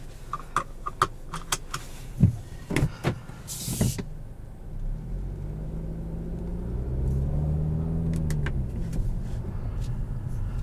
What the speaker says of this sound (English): Let me go ahead and pull the car forward.